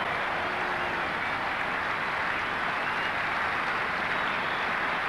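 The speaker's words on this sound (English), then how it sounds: "getting a very warm round of applause from this excellent crowd" A cricket crowd applauds a batsman reaching fifty runs, with a steady, distant wash of clapping from a large stadium audience that continues without a break.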